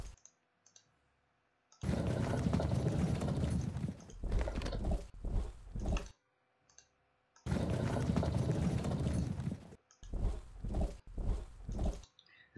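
Cavalry horses advance in the Pike and Shot video game, two repeated bursts of dense hoof and movement noise, each a couple of seconds long and followed by shorter pulses, with near silence between.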